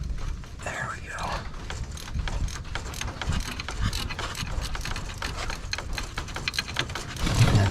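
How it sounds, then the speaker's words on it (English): Ratcheting wrench working a bolt on a John Deere 1010 engine during a rebuild, a rapid run of close mechanical clicks over low background rumble. "My daughters gave me some ratcheting wrenches for Christmas"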